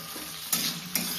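Cauliflower florets fry in a pan with a constant soft sizzle, and two louder stirring scrapes stand out at close range.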